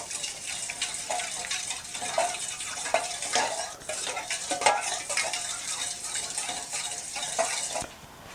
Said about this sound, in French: Et puis nous allons homogénéiser le mélange.